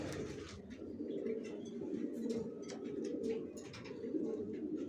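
Soft, repeated low cooing of racing pigeons, close and fairly quiet, layered with faint chirps and rustling clicks throughout.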